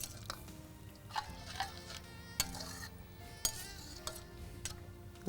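Faint scraping and light clinks of a utensil stirring food in a pot as it comes to a boil, irregular taps over a low background hum.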